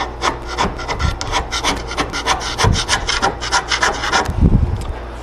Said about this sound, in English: I want to give them a couple good scrapes, kind of roughing the material down